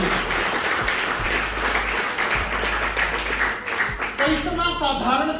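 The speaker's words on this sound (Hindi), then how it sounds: "तालियां दोनों हमारे बहनों के लिए" Audience clapping at a business motivational seminar, a broad steady wash of applause lasting throughout, with a speaker's voice rising over it near the end.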